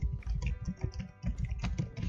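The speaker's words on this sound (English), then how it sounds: "Keystrokes sound like this." Quick bursts of typing on an Aorus 15 XA gaming laptop keyboard, keys clattering close up in uneven rhythm with brief pauses between runs.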